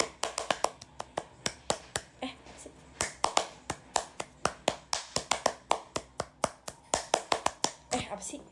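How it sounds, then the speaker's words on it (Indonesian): Tepuk pramuka, the Indonesian scout-style rhythmic hand clapping: quick, sharp claps close by in patterned bursts with short pauses between groups, and a voice faintly underneath. "Gimana sih cara tepuk tangannya guys? Iya betul, tepuk pramuka."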